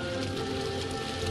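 Heavy rain falling in a steady, dense wash with no gaps, close and moderately loud, with no voices.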